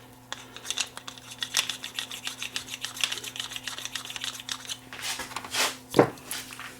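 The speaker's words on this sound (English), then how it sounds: "This screwdriver needs to be magnetized again." A screwdriver is rubbed against a magnetizer during repair work on an Onkyo TX-SR705 receiver, giving close, irregular light scraping clicks over a steady low electrical hum, with one sharper scrape near the end and no talking.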